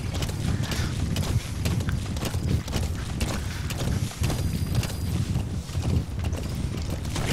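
Horse hooves clip-clop in a quick, steady rhythm in the video game Skyrim, loud and close over a dense, constant background, with no talk.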